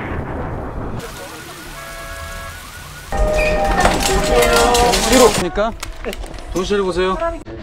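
Rain falling during wet weather, a dense hiss of drops that grows heavier partway through, mixed with dramatic music and other sound effects.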